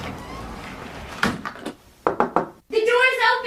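A house door opens with a few knocking and thudding handling sounds, close and moderately loud, as people talk around it.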